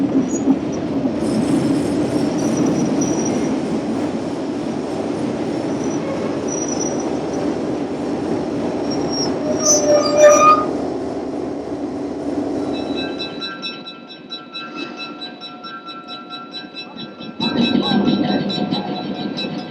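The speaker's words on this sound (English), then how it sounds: "Shovelnose E1 units arrive into Pinole with westbound Golden Gate Train Number 61." Santa Fe Shovelnose E1 diesel locomotives roll into Pinole at the head of westbound Golden Gate train number 61, a steady loud rumble of engines and wheels on rail with a brief rise near the middle, then tonal idling hum and a renewed surge at the end.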